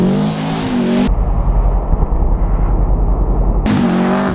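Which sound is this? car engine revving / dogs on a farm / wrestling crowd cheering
car engine revving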